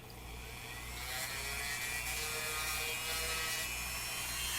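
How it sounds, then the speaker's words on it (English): A Dremel rotary tool smoothing the edges of a plastic part on a Monogram/Revell Battlestar Galactica Viper Mk1 model, a steady close high-pitched whine with rough grinding, continuous and without talk. "With the Dremel. Make it look a little more round."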